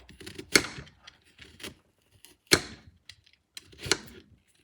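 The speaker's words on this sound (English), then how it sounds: "And I decided to cut it into little rounds." A knife slices fresh ginger root into rounds on a board, giving three sharp, separate chopping knocks spaced a couple of seconds apart, close and fairly quiet, with small faint clicks between them.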